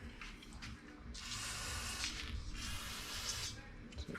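Cleaner sprayed onto a corroded dirt bike carburetor in a workshop, heard as two long, steady hissing bursts close by with a short pause between them, faint and low in level.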